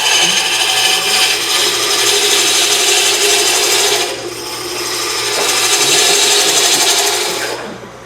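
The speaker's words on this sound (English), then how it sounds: "This is a spindle roughing gouge." A spindle roughing gouge shaves a spinning wood blank on a lathe, giving a loud, continuous rasping scrape that dips briefly midway and then swells again, heard alone and close.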